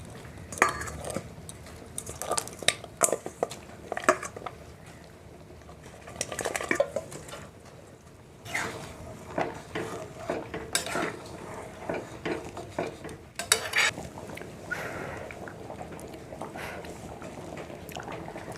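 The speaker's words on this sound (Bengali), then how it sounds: "ওলের ডালটা ফুটছে, এখন এর মধ্যে ভেজে রাখা মাছের মাথাগুলো দিয়ে দিচ্ছি" Pots and utensils clink and scrape in bursts over a bubbling simmer, with stirring as fried fish heads are dropped into a pot of boiling elephant-foot-yam lentils, no voices.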